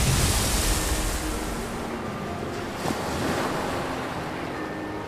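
Ocean waves roll and wash in a continuous broad roar, with a surge of surf at the start that eases into steady rushing water.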